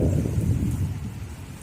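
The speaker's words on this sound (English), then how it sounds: "rain." Rain falls steadily during a severe thunderstorm in Livingston County, a dense close wash with a deep low rumble beneath it and no voices.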